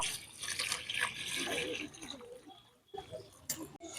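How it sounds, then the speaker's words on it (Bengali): Milk poured over cut watermelon pieces for an apple-watermelon juice, a gurgling, splashing liquid stream running for a few seconds, then stopping, with a couple of faint clinks after, close and fairly quiet. "এখন ইয়ার মধ্যে আমি দিয়ে দেবো দুধ দুধটা দিয়ে দেবো"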